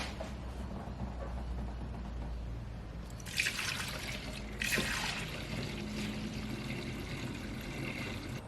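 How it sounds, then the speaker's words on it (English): Coolant poured into the engine of a Ford Ranger, a soft continuous trickle under a low steady hum, with two brief brighter splashy surges partway through. "The only thing left to do now is to top up the coolant and start it up."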